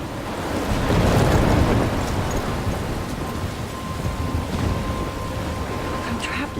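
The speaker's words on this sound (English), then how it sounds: "I'm trapped in a storm?" A thunderstorm in the video game Life is Strange, with a heavy, steady roar of rain and rolling thunder that swells early on and then settles into a continuous wash of storm noise.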